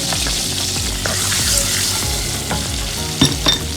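Cumin seeds and asafetida crackle in hot oil, a bright close sizzle with rapid popping, a few louder spatters and a stir or two toward the end, no one talking.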